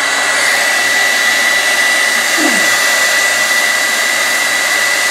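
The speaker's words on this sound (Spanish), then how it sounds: "Con este secador de cabello le vamos a dar temperatura a la bobina." Hair dryer blowing hot air onto a 76 mm loudspeaker voice coil, a loud, steady, close whooshing drone with a constant whine, running unbroken throughout with no talk.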